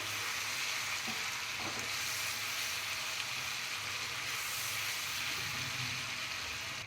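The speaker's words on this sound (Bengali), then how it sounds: "আদা রসুনের পেস্ট দিয়ে দিলাম আজকে আমি এখন ভালো করে ভাজবো" Ginger-garlic paste frying in a hot pan gives a dense, constant sizzle and hiss, close and even throughout, with only faint stirring noises beneath.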